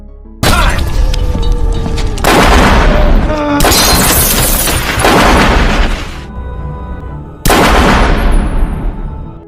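Gunfire and heavy booms in a violent film attack scene, loud dense bursts of shots and blasts in long stretches with brief pauses between.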